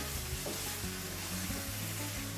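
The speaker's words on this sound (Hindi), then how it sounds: "इसको हम दोबारा से मिक्स कर लेंगे" Courgette curry with onions stirred in a hot pan, a continuous close sizzle with rhythmic scraping stirs of a utensil against the pan.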